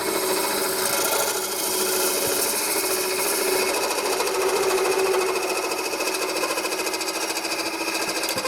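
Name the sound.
shop-made carbide scraper hollowing spalted hazel on a lathe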